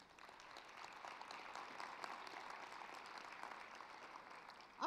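Steady audience applause fills a conference hall at a statewide forum on the future of work, a dense, even wash of clapping at moderate volume that holds throughout, with no talk over it.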